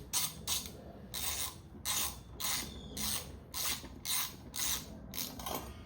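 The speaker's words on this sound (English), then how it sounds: "But yeah, let's get all those tightened in nicely." A hand ratchet tightens bolts on an ETM RTR: steady repeated clicking bursts, about ten evenly spaced strokes, close and clear with no talking.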